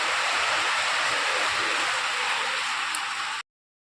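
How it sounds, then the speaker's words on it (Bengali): Heavy monsoon rain pours down, a dense, steady hiss, fairly close and constant, that stops abruptly just before the end. "এখন বৃষ্টি পড়েই যাচ্ছে"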